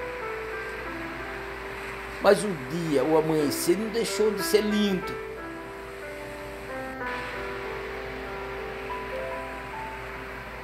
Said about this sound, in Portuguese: Você escuta o barulho da água batendo, as ondas batendo, quebrando.